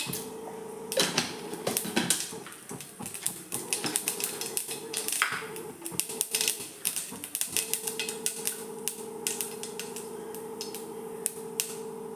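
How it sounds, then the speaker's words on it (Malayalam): Mustard seeds splutter in hot raw coconut oil for a curry, a dense, rapid crackle of close, sharp pops over a steady sizzling hiss that keeps going throughout. "ഇതിലേക്ക് കടുക് ഇട്ട് കൊടുക്കുക"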